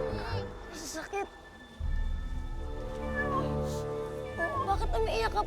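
A cat meows repeatedly in plaintive, drawn-out cries, close and fairly loud, with a voice talking over part of it in an animated cartoon scene.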